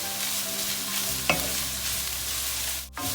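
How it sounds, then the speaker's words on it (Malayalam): Chicken fried rice frying in a pan as an egg goes in, a steady sizzle with a sharp scrape near the middle and a brief dropout just before the end; no voices. "ഇനി നമുക്ക് അവസാനമായിട്ട് മുട്ട ചേർത്ത് കൊടുക്കാം."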